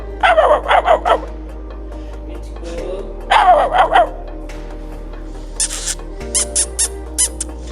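A dog barks in two short bursts of several quick barks, then gives a few higher, scattered yips and barks close by.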